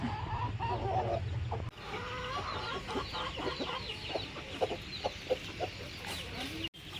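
Chickens cluck softly and repeatedly nearby, a steady scatter of short clucks over faint background noise.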